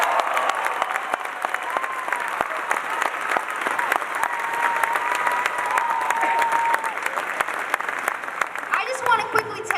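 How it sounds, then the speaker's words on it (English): Crowd applause at a Maine Senate campaign rally for volunteers, a steady wash of clapping running throughout with crowd noise mixed in, fairly close and sustained before tapering at the end. "let's give a round of applause for all the work we have to do and all the work they're doing."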